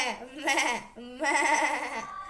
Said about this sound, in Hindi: बकरी है क्या भाई?